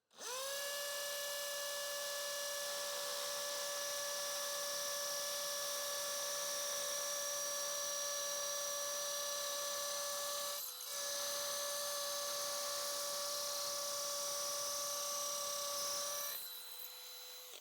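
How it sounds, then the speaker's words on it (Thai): A Dewalt DCD805N 20V brushless cordless hammer drill grinds steadily into concrete in hammer mode, loud and close, with a high whining tone, pausing briefly once before running on and stopping. "จะปรับไปที่โหมดการเจาะกระแทกนะครับ"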